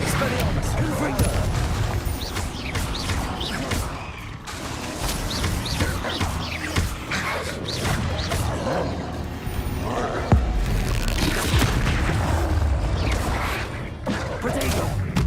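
Spells cast in Hogwarts Legacy, with fiery Confringo blasts bursting among crackling magic, booms and mechanical creaks in a dense, continuous game battle mix, voices calling out over the action.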